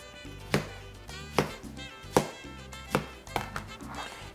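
A knife slices a peeled plantain into one-inch rounds on a cutting board, with six crisp, evenly spaced chops sounding close and clear while a faint hum plays underneath.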